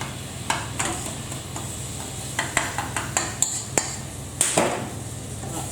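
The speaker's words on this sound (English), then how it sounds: "So give that a bit of a stir" A spoon stirs chopped tomatoes into an egg and aubergine curry in a pot, giving soft sizzling under a string of sharp clinks and scrapes against the metal.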